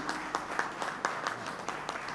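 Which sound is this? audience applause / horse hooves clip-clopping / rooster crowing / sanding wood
audience applause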